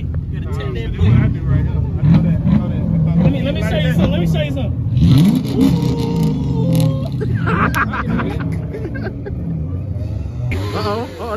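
Engines rev at a crowded motorcycle meet, rising and falling in loud bursts amid constant nearby talk and crowd noise.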